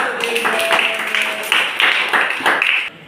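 A small group claps for Gilbert in uneven bursts, with a few sharp individual claps and some tonal background sound mixed in; the clapping breaks off abruptly near the end.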